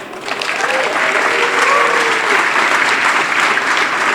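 Loud, full audience applause at an investment talk on nuclear energy and uranium, clapping that swells in quickly and holds steady. A voice or two rises briefly above the crowd.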